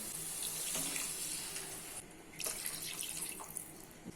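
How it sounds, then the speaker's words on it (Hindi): Two cups of water poured into spiced curry masala in a pan over the flame, a steady splashing pour lasting a few seconds with small surges, close and fairly quiet, no talking. "अभी इसमें 2 कप वाटर ऐड कर लेते हैं"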